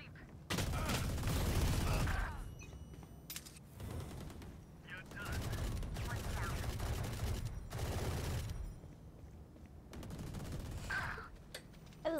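Bursts of gunfire from the tactical shooter game Valorant, several loud volleys of rapid shots separated by short gaps over about twelve seconds, with talk mixed in.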